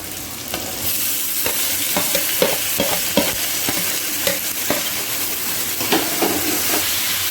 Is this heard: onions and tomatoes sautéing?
yes